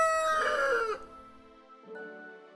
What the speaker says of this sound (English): He had crowed with a loud cock-a-doodle-doo to greet them.